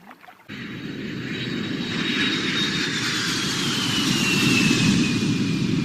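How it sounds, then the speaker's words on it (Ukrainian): An airplane engine roars steadily and loudly, a broad jet-like rush with a faint high whine, swelling slightly as it passes close overhead. "Ну, звісно, Звичайно, це літак."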